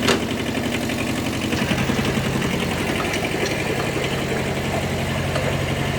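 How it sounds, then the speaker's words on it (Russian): A Kubota Bulltra 10 mini tractor running with its rotary tiller engaged, giving a steady, close, droning engine hum with a constant mechanical whir and no pauses. "Проверим работу фрезы."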